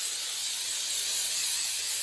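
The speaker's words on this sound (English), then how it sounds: "I'm just using some vegetable-based cooking spray" A steady, continuous aerosol hiss of vegetable-based cooking spray coating a muffin tin, close and loud, lasting the whole moment without pause.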